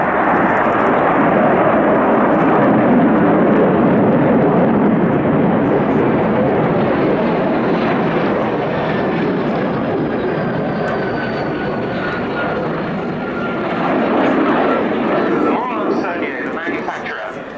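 MS.760 Paris and Fouga CM175 Zephyr jets at an air display give a loud, continuous jet engine roar that holds steady and then swells again, with a commentator speaking over it throughout.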